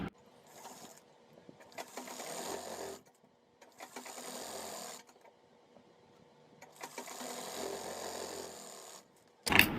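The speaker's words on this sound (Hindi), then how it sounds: "ये हमने एक सिलाई लगा के अपने बेल्ट को अटैच कर लिया है" A sewing machine stitches a belt onto palazzo pants in three separate runs of steady mechanical whirring, each lasting a couple of seconds, with short quiet pauses between them. A sharp louder noise comes right at the end.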